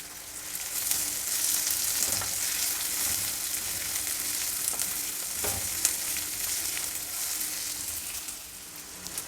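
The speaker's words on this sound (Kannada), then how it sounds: "ಮೀಡಿಯಮ್ ಸೈಜಿನ 2 ಈರುಳ್ಳಿ ಮೀಡಿಯಮ್ಮಾಗಿ ಹಚ್ಚಿ ಹಾಕ್ಕೊಳ್ತಾಯಿದ್ದೀನಿ." Chopped onions and curry leaves frying in oil in a pan for a coriander rice dish, a continuous close sizzle with occasional stirring scrapes and no talk.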